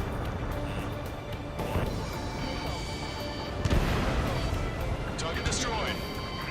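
Ace Combat 7 aerial combat: steady gunfire, crashes and explosions rumble throughout, with one sharp heavy blast partway through. Radio voices talk over the battle noise.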